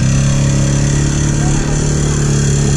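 Polaris Trail Boss 330 2WD ATV stuck in the dirt, its engine held at a steady loud drone close by, with no clear rise or fall over the short stretch.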